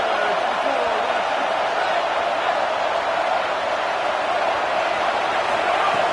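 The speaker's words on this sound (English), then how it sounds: "Here comes this home crowd as the defense tries to get off the field on third down." A home crowd roars steadily in College Football 27 as the defense tries to get a third-down stop, a dense, continuous wall of cheering that holds at a loud, even level throughout.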